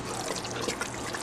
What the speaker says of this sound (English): I'm going to add about a 1/4 cup of water just to thin out the mix a bit